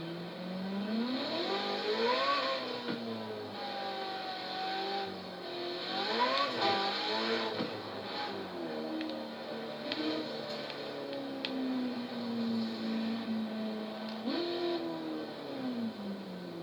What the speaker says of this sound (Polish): Ryk silnika to już jest w ogóle inna bajka, to jest też cudo.